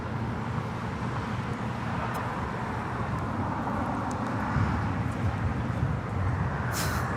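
British Airways Boeing 777-300ER at Los Angeles International Airport, heard as a broad, steady roar of jet engines with rumbling traffic-like noise, moderately loud and continuous, with no talk.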